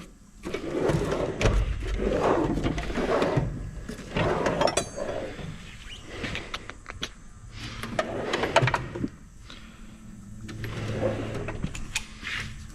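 Metal drawers in a workshop toolbox, slid open and shut with rattling and clinking of tools being rummaged, repeated bursts of sliding and clanking at close range.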